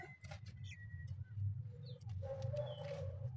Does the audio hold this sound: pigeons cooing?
yes